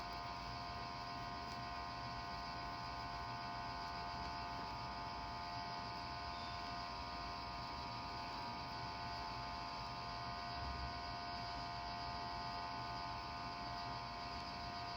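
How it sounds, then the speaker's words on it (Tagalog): A noisy air conditioner runs in a room with a constant, steady hum and hiss, loud and unbroken, with no talking. "Actually, yung aircon niya maingay po."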